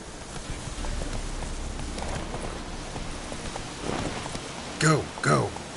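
Steady rain patters under the hooves of Geralt's horse Roach in The Witcher 3 as it trots with a soft clip-clop. A person speaks briefly near the end.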